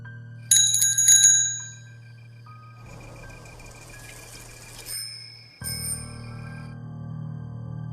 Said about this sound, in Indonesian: saat dia membunyikan bel sepeda, terdengar juga bel lain yang ikut menyahut dari kejauhan